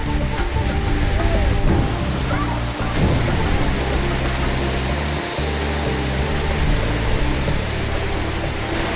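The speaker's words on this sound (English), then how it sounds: "It is so forceful underneath that waterfall" Forceful waterfall at the headwaters of the Siem Reap River near Angkor, a dense, steady roar of pounding water heard close up, filling the whole clip without a break.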